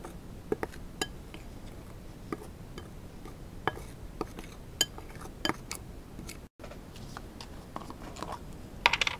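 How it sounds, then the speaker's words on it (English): Scraping and light clinking of a spoon against a bowl while baking soda and cornstarch are stirred together for homemade deodorant, with irregular soft taps and clicks throughout, close up and fairly quiet. "So you just have to stir the baking soda and the cornstarch really well together."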